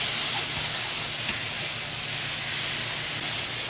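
Bulgogi stir-frying with coriander for banh mi, cooked until dry: a steady, loud sizzling hiss fills the whole stretch with no break and no talk.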